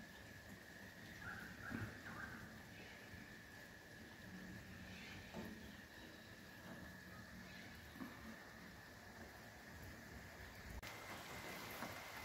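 Steady rain falls outdoors in a wet, overgrown yard, a dense even hiss of drops with a few louder patters, continuous and fairly soft throughout.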